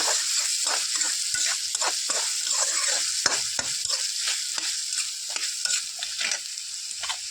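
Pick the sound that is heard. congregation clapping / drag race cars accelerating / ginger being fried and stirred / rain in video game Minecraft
ginger being fried and stirred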